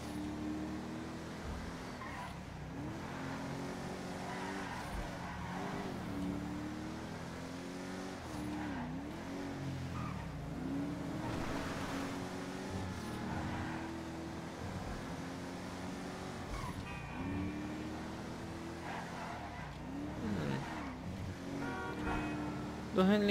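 An Enus Windsor Drop, a big luxury convertible in GTA 5, cruises along with a steady engine drone and occasional rising revs, heard fairly faintly under quiet background sound.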